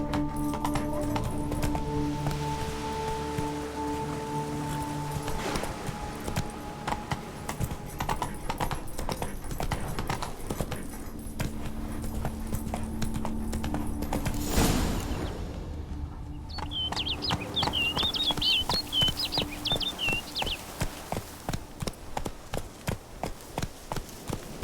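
A horse gallops in The Witcher 3, with rhythmic clip-clop hoofbeats that continue for the whole clip and grow sharper and quicker toward the end, over game ambience.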